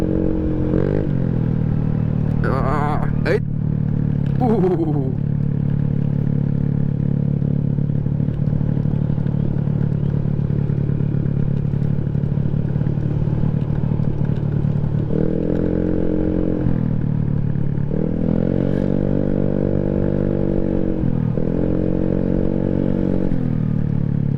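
A motorcycle engine drones steadily at close range while riding on a smooth road, with a few brief clatters early on and the engine note rising and falling later as it revs.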